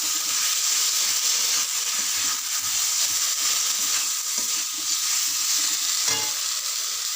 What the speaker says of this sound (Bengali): আলুর সঙ্গে মশলাগুলো খুব ভালোভাবে কষানো হয়ে গেছে